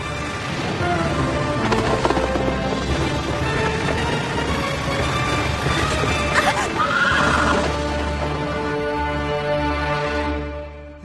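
A horse neighs loudly and close, a long whinny with a strong body, set over a busy layered backdrop of music and effects, with an action scene around it. Hoof sounds are not clearly distinct beneath the mix.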